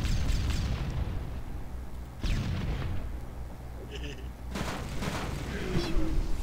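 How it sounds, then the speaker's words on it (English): Heavy booming shots from a vehicle's main gun in Halo 3, several loud blasts spaced a couple of seconds apart amid game noise, with voices chattering throughout. "Fire its main gun."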